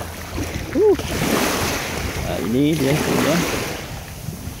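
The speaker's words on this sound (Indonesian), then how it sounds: "denyutan ombak Pantai Kampung Pano," Waves washing onto the beach at Kampung Pano make a steady wash and surge over wind noise, while someone speaks close to the microphone.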